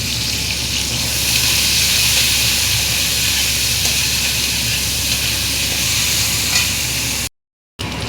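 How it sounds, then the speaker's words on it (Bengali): Capsicum and chopped onion stir-frying in a pan for chilli chicken, a loud steady sizzle with light stirring, running evenly before a brief dropout near the end. "ক্যাপসিকাম আর পেঁয়াজটা একটু ভালো করে ভাজা ভাজা হয়ে গেলে"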